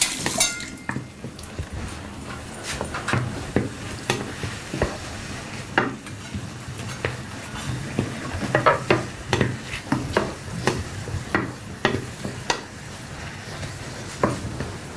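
Shrimp frying in a pan with mushrooms, a steady sizzle broken by repeated clinks and scrapes of a utensil stirring against the pan, close and fairly loud with no talk.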